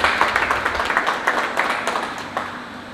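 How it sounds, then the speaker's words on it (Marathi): A crowd claps in a quick, steady patter to welcome an employee given a certificate and star by the company at an Independence Day celebration in Pune, moderately loud and continuous for a few seconds. "तर त्यांचं आपण टाळ्या वाजून स्वागत"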